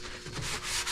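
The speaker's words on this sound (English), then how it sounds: "I'm just scuffing this up, getting in here." Scuffing a car firewall surface by hand before painting, a brief close rough rubbing and sanding scrape with no talk.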